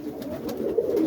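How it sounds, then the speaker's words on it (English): Young Boston roller pigeons coo in soft, low, rolling calls, close and continuous, with faint background noise and no speech. "all these are young birds"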